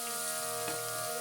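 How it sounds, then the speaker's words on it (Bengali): Potatoes frying in oil in a wok, a low steady sizzle with a soft bubbling hiss, close and even throughout with a brief stir-like bump midway. "তারপর একটা কড়াইতে তেল দিয়ে আলুগুলো দিয়ে দেব"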